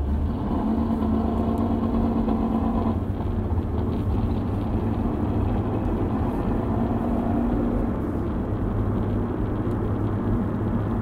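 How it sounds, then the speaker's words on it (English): A small car passing on a road near a shopping plaza, a mid-pitched engine drone heard from inside a moving vehicle, steady and moderately loud with no talking. "That was just a little car you heard."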